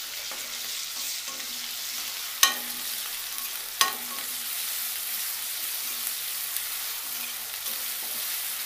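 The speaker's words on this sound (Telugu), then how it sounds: "ఇలా కొంచెం వేగిన తర్వాత దీంట్లో ఒక 1 టీ స్పూన్ అల్లం వెల్లుల్లి పేస్ట్ వేసుకుందాం." Onion and potato fry with ginger garlic paste in a pan, a loud, continuous close sizzle broken by two sharp utensil knocks and a few lighter taps, with no talking.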